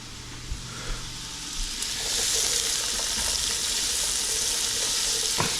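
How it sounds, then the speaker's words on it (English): Vegetables for Cuban carne con papas frying in a pan, a steady hissing sizzle that swells after a couple of seconds, with a few soft knocks from a quick stir. "after that, do a quick stir or two."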